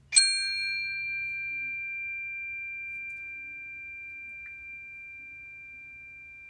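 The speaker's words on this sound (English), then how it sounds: "I'm going to ring the chime and listen super careful." A chime in a quiet kids' yoga class is struck once, giving a bright, clear ding that rings on as a long pure tone and fades slowly over several seconds, with a faint rustle partway through.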